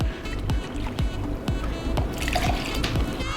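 A cup of water is poured into a blender cup that already holds ginger root. Close, gurgling glugs repeat in a regular rhythm, with a light trickle between them.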